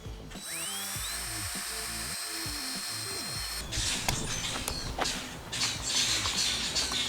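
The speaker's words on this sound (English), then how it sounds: "Instead of being lazy, I'll just drill it." A power drill whines steadily at close range, its motor pitch shifting as it bites in, with brief scraping and clatter bursts toward the end.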